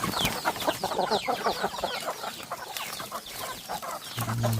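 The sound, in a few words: chickens clucking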